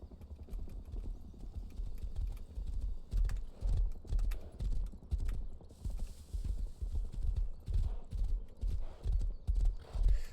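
Horse hooves clip-clopping at a steady gallop in an online survival video game, loud, rhythmic and close, with a brief neigh near the start.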